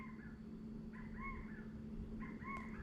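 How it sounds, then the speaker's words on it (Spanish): A songbird repeats three short, bright chirping phrases a little apart at a house, fairly soft over a steady low background hum. "Oye ese pájaro que canta."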